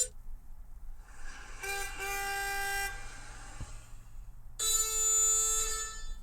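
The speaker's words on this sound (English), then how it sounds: "Let me try the car horn." Car horn sound played from an iPhone speaker: two sustained honks, the first about a second long and the second shorter and louder, with quiet background between and no speech.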